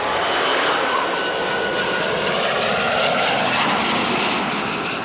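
A U-2 reconnaissance aircraft's jet engine roars steadily at full power during takeoff, a loud, continuous broadband blast with no voices.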